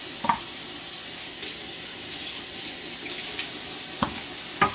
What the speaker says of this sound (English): So we rinse the plate, the onions,